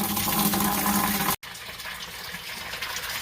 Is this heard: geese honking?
no